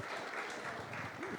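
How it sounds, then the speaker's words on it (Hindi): Applause from an audience welcoming Asaduddin Owaisi at the start of an interview, a short, faint, even spread of clapping heard from a distance. "आप सभी लोग जोरदार तालियों से ओवैसी साहब का स्वागत करिए"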